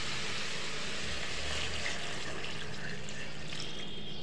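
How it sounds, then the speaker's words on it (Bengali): Water streams steadily into a pot of radish curry. The pour is close and continuous, a soft liquid rush lasting a few seconds with no one talking. "আমি পানি দিয়ে দিলাম পরিমাণ মতো।"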